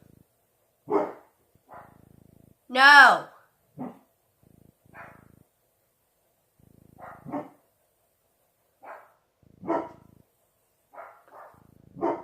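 A dog barks in scattered single yips and short barks, with one longer whining howl, separated by quiet pauses; a voice speaks briefly.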